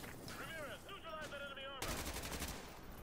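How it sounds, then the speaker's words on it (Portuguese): Gunfire in Call of Duty Modern Warfare 2 Remastered on PC: dense, continuous shooting with whistling, warbling tones over it, then a sudden louder burst of rapid automatic fire taking over for the final second. "Tomando tiro aqui com força"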